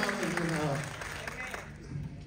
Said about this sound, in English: clap like you love him